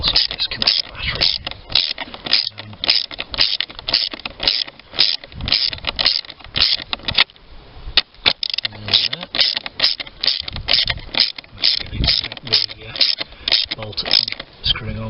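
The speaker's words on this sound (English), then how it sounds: "using a ratchet here with a very thick rubber handle" A ratchet with a very thick rubber handle tightens a fastener on a Peugeot 308: rapid, close, steady clicking in quick bursts that repeats throughout, with a short pause near the middle.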